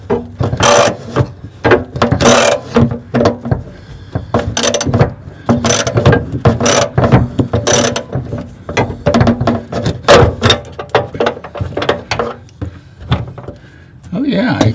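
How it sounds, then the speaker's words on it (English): A ratchet clicks in uneven bursts as the nut on a tank strap is loosened, close and loud, with scraping and knocking between strokes and someone talking at intervals. "how much work it was going to be to actually undo those straps and let the tank down"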